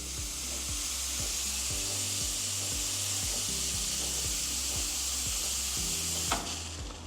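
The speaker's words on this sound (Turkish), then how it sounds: "Üç farklı yerden gördüğünüz gibi buharı şu anda üflüyor." Steam wand of a Barista One espresso machine blowing steam, a steady loud hiss holding throughout beneath a rhythmic low mechanical pulsing from the machine, with a brief click near the end.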